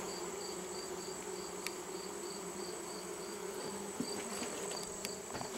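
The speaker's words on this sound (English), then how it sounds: "There's a whole hive right there." Bees hum steadily inside a Manchester top bar beehive, a dense, even drone up close with a few brief louder buzzes passing by.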